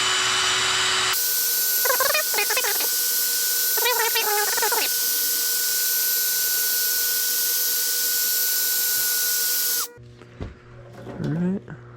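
A power tool grinds an engine valve from a 1940 Farmall H, giving a steady high whine that runs for several seconds while someone talks over it, then cuts off abruptly.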